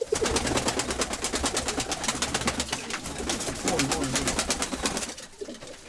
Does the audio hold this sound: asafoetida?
no